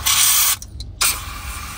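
Foam cleaner hisses from a spray bottle in loud, close bursts with a brief pause between them, used while cleaning a 2020 Kia Optima.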